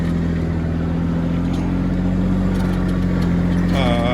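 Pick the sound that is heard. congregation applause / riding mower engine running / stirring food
riding mower engine running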